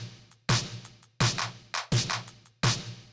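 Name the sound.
layered clap and snare drum samples in 80s synth pop beat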